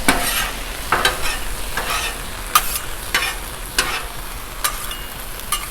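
Food sizzles steadily on a hot Blackstone griddle while sloppy joe ingredients are scraped and moved across it, with sharp spatula scrapes recurring every second or so over the constant frying hiss.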